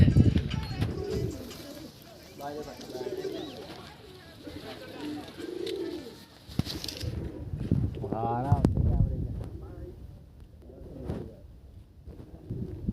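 Pigeons coo faintly among nearby people talking outdoors, with wind buffeting the microphone at times.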